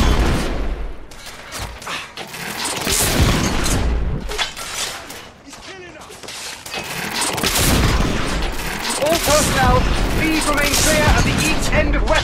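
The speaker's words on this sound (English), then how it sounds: "We are witnessing heavy artillery fire at the moment." Heavy artillery fire and gunfire in The Order 1886 on PS4, a dense barrage of booms and bursts rolling over continuous battle noise, with voices shouting amid the din.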